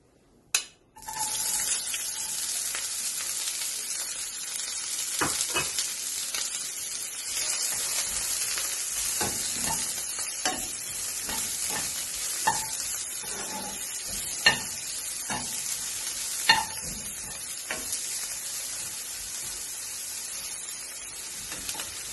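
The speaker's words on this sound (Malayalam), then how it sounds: "സവാള ഇട്ട് കൊടുക്കാം." Onion hits hot oil for a momo masala filling, an even close sizzle that runs throughout with scattered spoon scrapes and stirring clicks over the pan.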